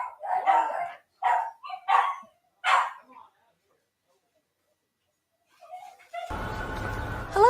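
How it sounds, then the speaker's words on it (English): Several dogs bark in a quick burst of four or five loud, close yaps, then fall silent before a door or outdoor noise rises at the end. "Let me let these crazy dogs out"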